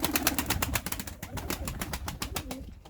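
A white pigeon coos nearby in a repeated, rhythmic run of soft throaty calls, with other birds faintly around it.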